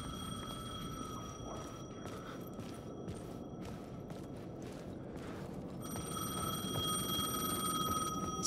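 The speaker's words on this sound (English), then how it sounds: "The payphone was ringing." A payphone rings in Alan Wake 2, a repeating electronic ring in steady pulses over a low ambient game drone, growing a little louder and more sustained toward the end.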